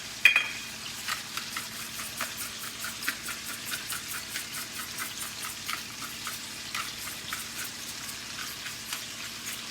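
Veal chops searing in a hot pan give a quiet, steady sizzle dotted with small crackling pops and spits, close but soft.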